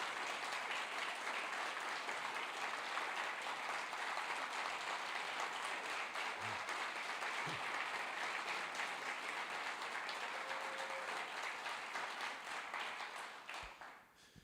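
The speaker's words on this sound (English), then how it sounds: "So I'd like to ask all of you to thank Sarah with a round of applause" A members' meeting audience gives a long round of applause for Sarah, dense clapping sustained at an even level before tapering off at the end.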